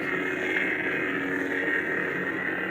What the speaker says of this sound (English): this is just the stale hum, the standing hum.